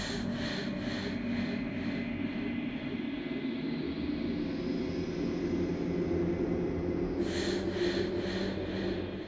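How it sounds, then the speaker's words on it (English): Slow, heavy breathing of a shifting mound in a music track from the video game Slay the Princess, steady rasping breaths over a dense, droning ambient bed that stays loud throughout. "You can hear the shifting mound breathing, either in a slumber or continuously waking up"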